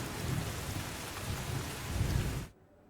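A heavy downpour in Surat hisses loud and steady, a dense wash of falling rain that cuts off abruptly near the end.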